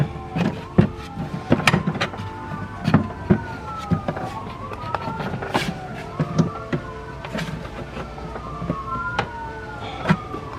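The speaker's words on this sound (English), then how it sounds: "As the sirens go off." Sirens in Waukegan wail with rising and falling pitch in the distance, mixed with intermittent clanks and knocks from nearby work installing a PRL high-volume intake on a Type R.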